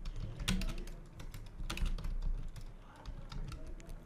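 Quiet, rapid keystrokes on a computer keyboard run steadily as a name is typed in, close and soft with no voices.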